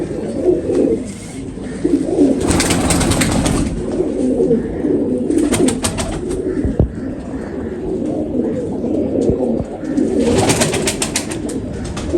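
Black Tiger pigeons in a breeding loft coo repeatedly in low, throaty rolling calls, with a few louder bursts of fluttering or rustling between them and a faint voice in the background.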